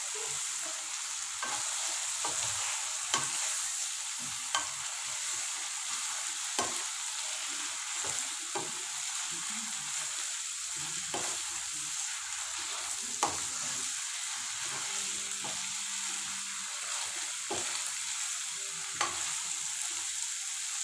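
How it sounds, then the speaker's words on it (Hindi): Cabbage being stirred with chicken and masala in a pot, a soft steady sizzle broken by regular scraping clicks of the spoon against the pot, close and fairly quiet. "गोभी शामिल करने के बाद इसको अच्छी तरह एक दफ़ा हिला देंगे ताकि मसाला सारा"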